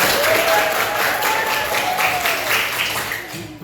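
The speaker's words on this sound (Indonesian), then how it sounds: "tepuk tangan buat semuanya" Audience applause after a teacher's training session, a steady wash of many hands clapping that fades toward the end, with faint talk underneath.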